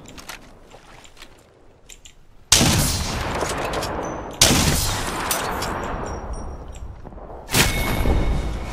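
Gunfire in the Apex Legends video game, Season 19: three loud, close bursts of shots with a little spacing between them, each decaying into a rattling tail over a quieter background.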